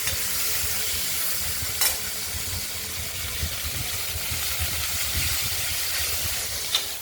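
Diced potatoes and chopped tomatoes fry in a pan with a steady, close sizzle and hiss and a couple of brief clinks, with no talking.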